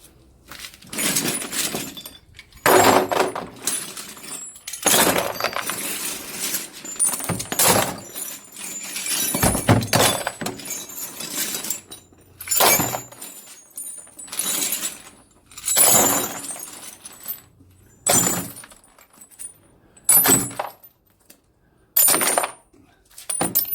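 Scrap brass pieces, including taps and hinges, are tipped into a container in a series of loud metallic clatters and clinks, with bursts separated by short pauses as handfuls drop onto the collected pile.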